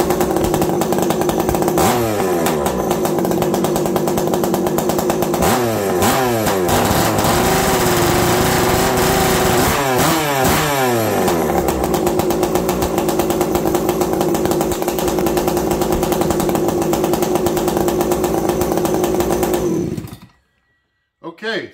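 Running up close, a Farmertec 288 kit chainsaw drones loud and steady, revved hard in several bursts before the engine cuts off abruptly near the end.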